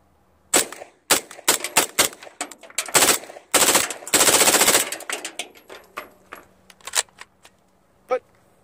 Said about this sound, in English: So, I've never shot it unsuppressed.